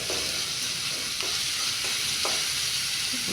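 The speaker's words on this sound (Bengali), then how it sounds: "মশলা ভাজাটা খুব জরুরি, ভালো মতন ভাজা না হলে তরকারির টেস্ট হয় না।" Ground spices fry in a pan for ghugni, a pea and potato curry, with a steady close sizzle and soft scraping strokes as they are stirred.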